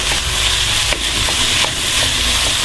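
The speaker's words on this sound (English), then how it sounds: "The idea here is to fry the mince off, get it to separate" Beef mince frying in a pan as it is worked round and broken up, a loud continuous sizzle with scattered scraping and stirring clicks from the utensil, no voices.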